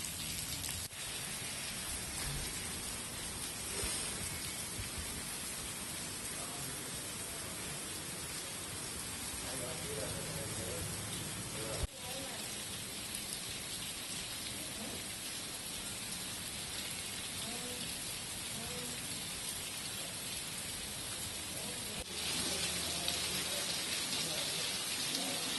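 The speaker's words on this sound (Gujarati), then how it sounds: "ભાવનગર શહેરમાં આજે વરસાદનું ઝાપટું પડ્યું હતું" Steady rain shower falling on surfaces in Bhavnagar city, a dense, even patter with faint background sounds and a brief low thump near the middle.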